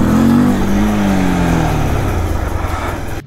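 A motorcycle engine roars loudly and steadily during wheelie stunt practice at a bike stunt training ground, held at high revs close by, then easing slightly toward the end.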